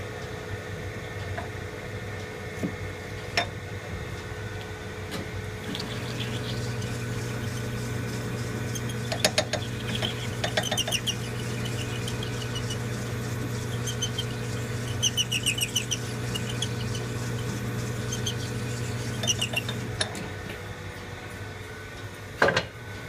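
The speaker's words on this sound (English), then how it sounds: "back to the honing machine again, give it another little cut." A honing machine cuts a small die with a steady, moderately loud mechanical hum and drone, a deeper grinding tone running through the middle stretch, with faint ticks and light metallic clicks scattered over it.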